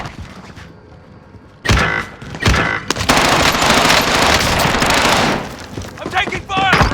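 Video game gunfire erupts in loud, dense bursts of machine-gun fire from about the second mark on, sustained and near, with a game voice speaking over the shooting.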